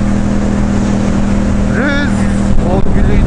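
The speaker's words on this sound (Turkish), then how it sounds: "Rüzgar sesi." Steady wind rushes and rumbles against the microphone at Göksu Park in Ankara, with a low constant hum and a few faint whistling tones toward the end.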